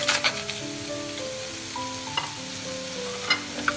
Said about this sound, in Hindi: सबसे पहले मैं इसमें गोश्त डालूंगी।